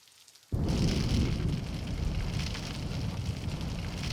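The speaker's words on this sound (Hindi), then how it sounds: "देख बाहर छमाछम बारिश हो रही है" Heavy monsoon rain outside in Mumbai bursts in suddenly after a quiet moment, then continues as a loud, dense, steady downpour close by, with no voices over it.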